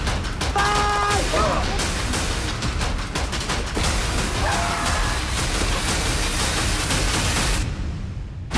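A rifle volley in an attack plays as a loud, continuous barrage of shots under dense battle noise, with faint tonal sounds in the mix, before stopping abruptly near the end.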